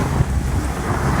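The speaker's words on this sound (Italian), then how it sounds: "il vento incalza, abbiamo vento a traverso da nord" Strong wind buffeting the microphone aboard a Jeanneau sailing boat off Corfu, Greece, with a north crosswind blowing across the hull; loud, close low rumbling gusts with uneven swells and no talk.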